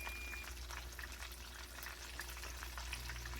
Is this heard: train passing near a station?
no